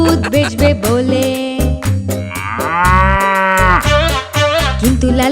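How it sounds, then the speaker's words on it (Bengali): A cow moos loudly and close up, several drawn-out lowing calls in a row with rising and falling pitch and short breaks between them. "গরুটা হতো খুব অবাক, আসলে কি চাইছে করতে বুদ্ধু লালাজি"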